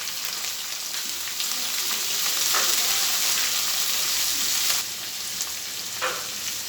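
Poppy seed paste and pabda fish are stirred in a pan, with a steady, fairly loud hissing sizzle and a couple of soft scraping strokes near the end, with no talking.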